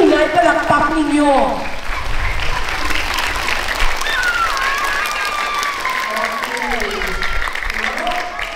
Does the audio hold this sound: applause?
yes